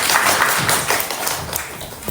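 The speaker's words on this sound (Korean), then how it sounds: "한 번 더 따뜻한 박수 부탁드리겠습니다" A church congregation claps in warm applause, a dense, steady patter of many hands close by that continues throughout the short moment.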